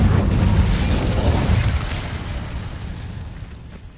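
Incendio fire spell cast in the Hogwarts Legacy game: a sudden whooshing burst of flame that hits loud at once and then fades out over a few seconds, with no voices.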